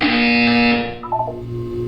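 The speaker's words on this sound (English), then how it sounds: "You will hear a buzzer." A buzzer from the video game Portal 2 blares as one loud, harsh, sustained tone, then cuts off and gives way to softer, lower electronic notes.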